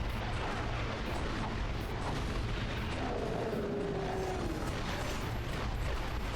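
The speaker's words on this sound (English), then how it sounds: "he's throwing random bombs" A boss hurling bombs in the Ratchet & Clank: Going Commando video game, a dense, loud wash of booming explosions and rumbling game effects that continues without a break.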